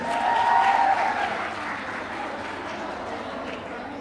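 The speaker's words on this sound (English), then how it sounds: "For a round of applause for them, folks." Applause from a primary school graduation audience, loudest in the first second and then easing into a steady patter of many hands clapping.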